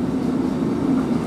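Train passing through the station at Kufstein, a steady rumbling rush of railcars running close by without pause, with no voices.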